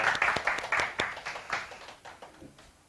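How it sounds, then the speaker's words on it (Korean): An audience at an author's lecture welcomes the speaker with a short burst of applause, individual claps distinct and lively at first, then thinning and fading out over a few seconds. "자, 박수로 맞으시기 바랍니다"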